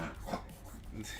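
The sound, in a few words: dog making weird noises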